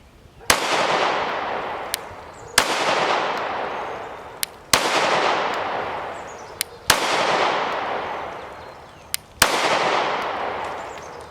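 Arex Delta M Gen 2 pistol firing at a range, five loud, sharp shots spaced about two seconds apart, each followed by a long echoing decay, with faint distant pops between them.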